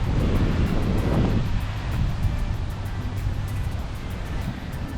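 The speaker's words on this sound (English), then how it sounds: "it is very windy" Strong wind buffets the microphone on a beach, a loud, steady roar with gusty surges, while the surf is barely distinguishable beneath it.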